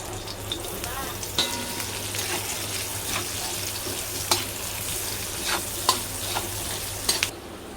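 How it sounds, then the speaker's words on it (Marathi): Steady sizzling of onion frying in hot oil, with occasional clinks and scrapes of a spoon stirring in the pan. "फोडणीला देते कांदा"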